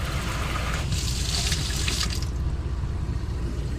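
Water rushes from a faucet in a steady hiss, briefly brightening into a sharper spray before settling back to a constant flow.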